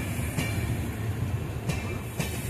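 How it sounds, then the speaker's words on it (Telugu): Mysore Junction–Jaipur Weekly Express passing an adjacent line, heard from a halted Garib Rath train: a steady low rail rumble with faint periodic clacks from wheel joints, no voices. "మాటల్లోనే ఇంకో ట్రైన్ కూడా వెళ్ళిపోతుంది"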